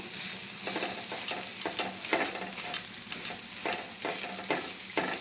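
Moong sprout pesarattu frying in plenty of oil in a pan, a close, continuous sizzle broken by spatula scrapes and stirring strokes, with no talking.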